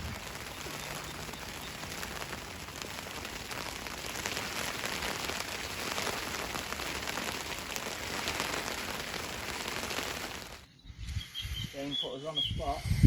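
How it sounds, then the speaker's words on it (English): Hail beats down steadily beside a local lake as a dense, even hiss of pelting ice that holds for several seconds and then cuts off abruptly into handling noises. "hopefully this hail packs it in a bit"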